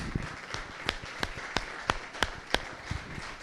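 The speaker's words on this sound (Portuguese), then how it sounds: "Uma salva de palmas ao Senhor Jesus." A church congregation in Santo André claps for Jesus in faint, fairly steady claps spaced about a third of a second apart over a soft, hollow room background, with no voices.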